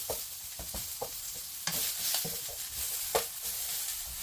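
Onion cooks in a pan for chicken adobo, a soft sizzle running underneath as a utensil scrapes and stirs in repeated strokes, close by and with no talking.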